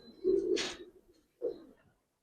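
Pigeons coo in a loft of Giribaz and coloured pigeons, giving two soft, close, throaty calls about a second apart in otherwise quiet surroundings.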